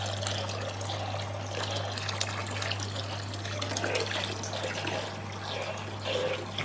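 A gravel vacuum siphoning water from a large tropical aquarium during servicing, a continuous close gurgling trickle and rush with a steady low mains hum beneath.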